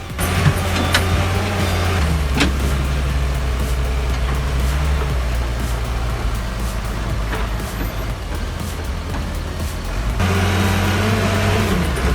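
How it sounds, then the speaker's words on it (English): A log loader handles large-diameter tree trunks, readying them for transport: a steady, loud diesel engine drone with a low hum throughout, a few sharp knocks and clanks, and a brief shift in engine tone near the end. "the loader preps these trunks for transport"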